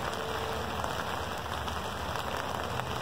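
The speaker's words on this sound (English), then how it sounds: "Keep going, it's raining harder." Steady summer rain pours down outdoors, a dense, even hiss of drops pattering on surfaces and an umbrella, constant and close for the whole stretch with no voices.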